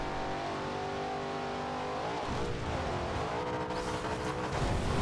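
A Cadillac Escalade in the racing game Forza Horizon 2 drones at steady revs, then its engine pitch dips and climbs through shifts while accelerating, loud and close, with no talk over it.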